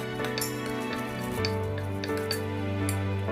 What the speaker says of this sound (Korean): 참기름을 넣어주고 표고버섯을 먼저 넣고 살짝 볶아줍니다